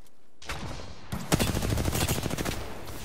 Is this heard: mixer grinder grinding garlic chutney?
no